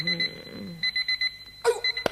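A mechanical alarm clock rings in short repeated bursts as a comedy sound effect on a cassette tape, bright metallic trilling close and loud, briefly broken by a sleepy vocal groan and a thud.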